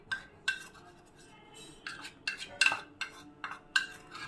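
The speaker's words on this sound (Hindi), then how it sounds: "2 चम्मच मैं यहाँ पर बेसन डालूँगी। इसे मैं पहले ड्राई रोस्ट कर लूँगी।" Gram flour dry roasting in a frying pan, with a spoon scraping and clinking against the metal in short, irregular strokes, close and fairly quiet with no talking.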